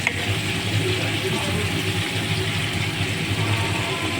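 Chopped onions and mutton frying in oil in a wok give a steady, close sizzle with faint stirring scrapes, under a low background hum.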